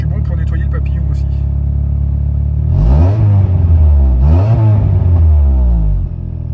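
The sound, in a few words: Rover 220 coupé engine revving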